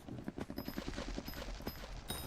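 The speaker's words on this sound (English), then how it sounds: "There's still more fireworks." Fireworks going off outdoors at night, a rapid crackling series of close, sharp pops and bursts in steady succession with a louder burst near the end, no talk over them.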